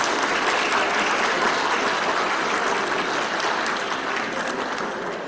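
An audience at a government procurement expo applauds in a steady, dense wash of clapping that holds evenly for several seconds before easing slightly at the end.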